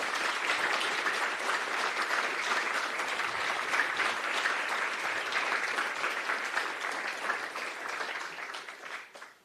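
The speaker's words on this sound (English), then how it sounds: "Please, a round of applause for this interesting talk." An audience applauds after a talk at an AI conference, a dense, steady wash of clapping that holds for several seconds before fading at the end.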